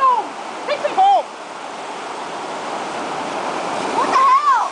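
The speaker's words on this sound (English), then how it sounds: "wait, there's water coming, Brooke" Beach waves wash in with a steady broad rush of surf, swelling slightly toward the end, while high-pitched voices call out over it.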